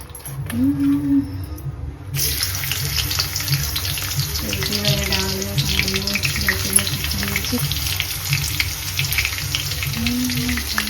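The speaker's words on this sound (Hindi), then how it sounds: "अभी फोरन डाल के बढ़िया ले भाजी ला भून लेते हैं" Leafy bhaji being fried in hot oil after a tempering of garlic and dried chillies, with a steady close sizzle broken by stirring scrapes and short tonal squeaks.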